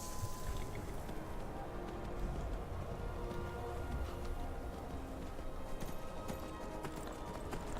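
Horse hooves clip-clop steadily in Skyrim, a fantasy role-playing video game, set in the snowy Winterhold region. The trotting continues throughout at moderate volume over a dense background wash.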